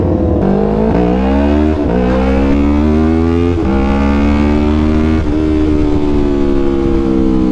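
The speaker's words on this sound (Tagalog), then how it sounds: "Napakalakas ng Akrapovic GP. Solid na solid yung tunog." A Yamaha R3 motorcycle fitted with an Akrapovic GP full-system exhaust revs hard and close, with repeated rising throttle blips over a loud, continuous engine roar and no talking.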